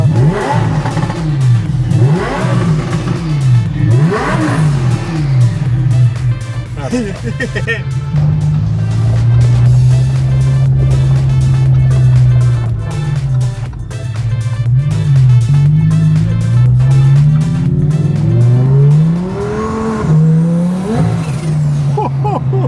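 A twin-turbo Lamborghini engine revs and accelerates hard on a test drive, loud and close, with rising and falling engine pitch and intermittent talking inside the car.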